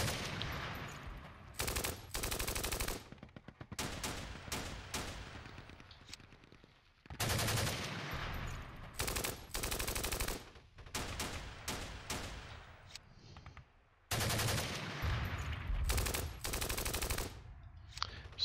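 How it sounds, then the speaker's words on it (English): Opportunity fire in the Steel Panthers wargame during an Iran-Iraq war 1980 battle: three long bursts of rapid small-arms and machine-gun fire, each broken into stuttering volleys and separated by short quiet gaps. "Wow, the amount of opportunity fire is crazy."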